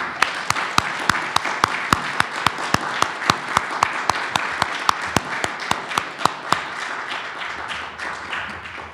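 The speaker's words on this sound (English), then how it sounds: "Would you please stand up, please, now, and so we can give you a round of applause." Audience applause for Raymond Clapper Award recipients at an honoring ceremony, dense clapping with a few sharp louder claps standing out, steady for most of the stretch and then thinning and fading toward the end.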